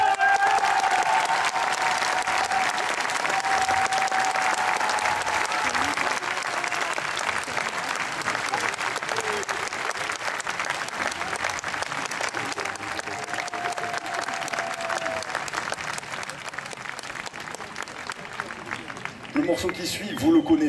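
Broad audience applause welcomes a choir from Firminy at an Arles event, a long steady wash of clapping that gradually thins toward the end, with a few voices and bumps near the close.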